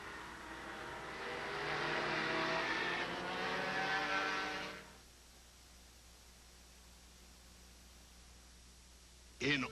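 Racing car engine on a road course at Sears Point, California, roaring loudly at high revs for several seconds, then cutting away to a quiet background with a brief burst at the end.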